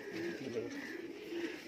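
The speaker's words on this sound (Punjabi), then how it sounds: "ਚੈੱਕ ਕਰ ਲਓ ਮੇਰੇ ਬਾਈ ਸਾਰੇ ਕਬੂਤਰ" Malwai pigeons in a loft coo softly and continuously, a low murmuring hum with faint background chatter from nearby birds throughout the short stretch.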